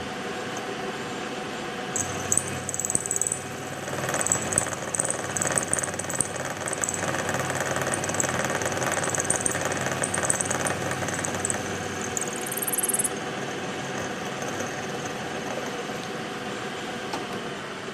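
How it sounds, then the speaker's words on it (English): Milling slots into a boring head with an 8mm solid carbide cutter, a steady machine drone with dense grinding chatter and a high cutting whine through the middle section, then a quieter running hum. "Slots milled into head for the C-spanner to mount onto the boring bar."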